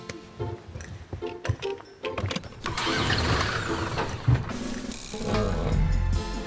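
A four-wheel-drive car starts and drives across a yard, its engine rising to a steady mid-pitched run after a few seconds of clatter and handling noises nearby.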